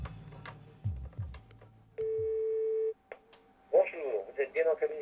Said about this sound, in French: un téléphone qui reste sans réponse